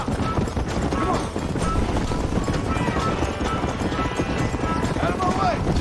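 A horse gallops in Red Dead Redemption with steady, close clip-clop hooves running throughout, a neigh near the end, and a rider shouting over it.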